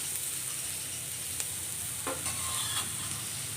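Jackfruit thoran stirring in a pan with salt just added, a steady soft sizzle underneath and a few scraping strokes of the spoon near the end, close and fairly quiet with no voices.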